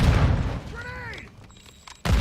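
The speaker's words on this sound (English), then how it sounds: "Grenade!" A grenade explodes in Call of Duty Modern Warfare II with a heavy, close boom at the start. A voice calls out in the fading tail, and a second low blast hits just before the end.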